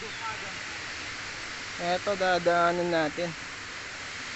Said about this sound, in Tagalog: Naririnig ko na yung ingay ng tubig na bumabagsak.